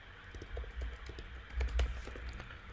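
Code is being typed on a computer keyboard at close range, a quiet run of irregular key clicks with a couple of louder taps near the end and no speech.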